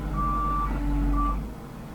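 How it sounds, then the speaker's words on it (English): An old Case SR250 skid steer lifts two stacks of 5/8 drywall on its forks, giving a steady, loud engine and hydraulic drone with two sustained whining tones and no talking. "You can hear that old Case SR250 lifts it no problem."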